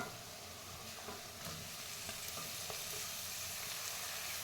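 Tomatoes fry in a pan with turmeric and a little salt while wheat rava upma is being made, giving a steady, even sizzle with faint stirring clicks throughout.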